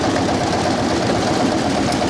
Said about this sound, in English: A pump set up here to be able to show just how it all operates and what the engine's used to do.